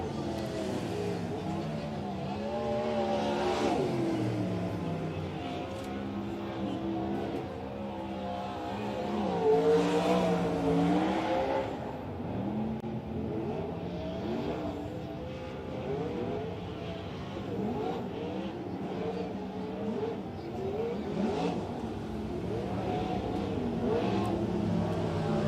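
Race car engines at Silver Dollar Speedway rumble and rev continuously as the field runs warm-up laps before a heat race at the Fall Nationals, with overlapping motor drones rising and falling as cars circle the track.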